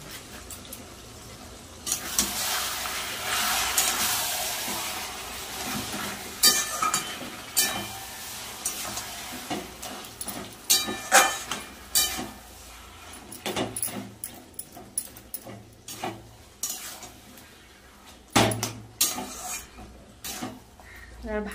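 Paneer is stir-fried with cumin powder, red chilli powder, salt and turmeric in a pan, with a spatula clattering and scraping in irregular bursts over a faint, steady sizzle for about twenty seconds.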